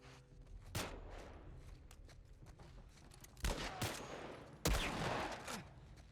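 Gunfire in The Last of Us Part I during the Tommy's Dam hydroelectric dam mission: a single sharp shot, then two louder bursts of rapid fire later on, all fairly quiet.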